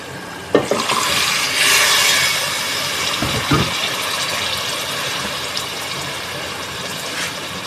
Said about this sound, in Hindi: दो गिलास पानी भी डाल दें।